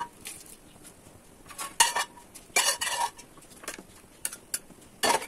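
Half-boiled gobindobhog rice and moong dal poured together into a pot, heard as bursts of clattering, scraping pot-and-utensil clinks and a soft wet patter, in several close, loud episodes separated by quieter moments.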